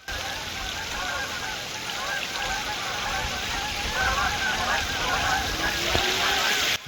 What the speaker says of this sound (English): Gorgeous. Geese.